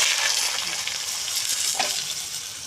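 Cut, washed potatoes drop into hot oil with tempering spices for a cabbage dish, raising a dense, close sizzle that holds steady, with a brief clatter of the pieces landing midway.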